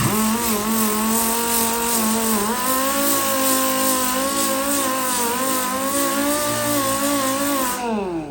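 A power sander loaded with 80-grit paper strips paint from a cut steel patch panel area, a steady loud high-pitched whine running continuously with slight pitch dips, then cutting off at the very end.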